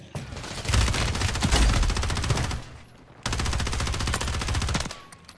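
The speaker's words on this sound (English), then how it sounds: "We're being sniped" Rapid gunfire from a video game firefight, two long loud bursts of closely spaced shots separated by a short lull, with a few faint extra cracks near the end.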